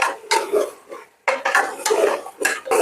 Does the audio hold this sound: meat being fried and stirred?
yes